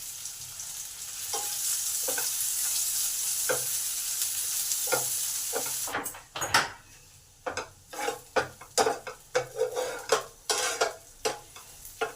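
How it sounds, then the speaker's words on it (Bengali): Chopped onions fry with a little salt in a hot pan, a continuous close sizzle at first, then turning into a series of sharp scraping and clinking stirs against the pan over a softer fizz. "পেঁয়াজগুলো আমার লাল লাল করে ভাজা হয়ে এসেছে।"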